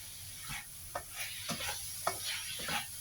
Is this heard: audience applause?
no